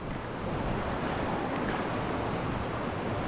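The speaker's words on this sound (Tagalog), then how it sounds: "At tayo ay dito ngayon sa tabing dagat." Surf washes steadily onto a seashore, a dense continuous roar of breaking waves with wind noise on the microphone and no voices.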